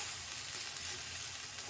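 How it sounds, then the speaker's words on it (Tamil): Semolina (rava) dry-roasting in a pan for upma gives a steady, soft sizzling crackle with faint stirring scrapes, continuous and close with no voices. "ரவை இதில் போட்டு நல்லா வறுத்துக்கோங்க."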